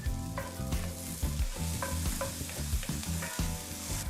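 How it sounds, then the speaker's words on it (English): Onions sauté in a hot pan with a busy sizzle, while a utensil clanks and scrapes against the metal in quick, repeated knocks close by. "we're gonna go in with our onions. And we're gonna saute these for about 5 minutes"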